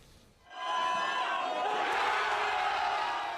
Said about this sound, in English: Cheers and applause burst out from soccer fans who aren't shy about showing their passion.